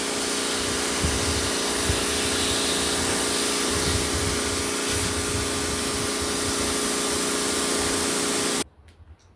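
A pressure sprayer running continuously with its trigger clipped open while repointing an Indian stone patio, a loud, steady hissing rush that stops suddenly near the end, with no speech.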